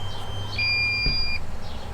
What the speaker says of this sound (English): Actually, it's just beeping at me.